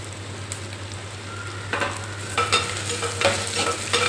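Tomatoes sauté in a pan for kara kuzhambu, a soft steady sizzle with faint stirring scrapes that pick up in the second half, under a constant low hum and no talk.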